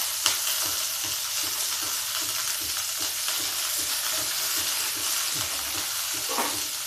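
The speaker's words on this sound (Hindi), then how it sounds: "अब इसको थोड़ा सा फ्राई कर लेते हैं" Food frying in a pan over a low gas flame gives a constant broad sizzle, with soft rhythmic stirring scrapes in the foreground and no talk.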